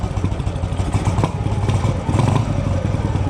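A motorcycle engine runs after being started, with a close, loud, steady chugging and a light mechanical clatter throughout.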